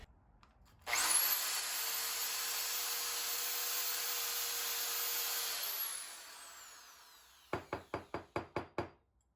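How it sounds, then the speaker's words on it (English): A small rotary sanding tool whirs up and grinds steadily inside the hosel of a forged iron golf club head, then spins down and stops. A quick series of about six sharp taps follows. "we're going to do a quick sanding out of the inside of the hosel just to make sure there's no leftover debris in there"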